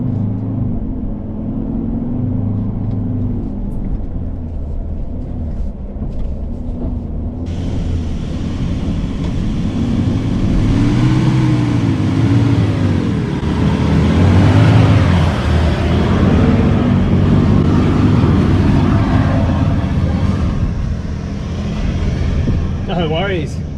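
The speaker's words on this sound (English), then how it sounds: "I tried driving up it pretty casually first and got stuck" A 4WD's engine revs hard as it climbs a big sandy hill on Moreton Island, the roar swelling and straining through the middle before easing off; wind buffets the microphone throughout.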